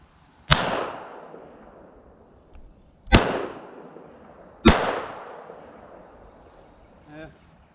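Three pistol shots from a PA-63 chambered in 9mm Makarov crack out loud and close, spaced a few seconds apart. Each sharp report trails off in a short outdoor echo, and a faint rattle follows the last shot.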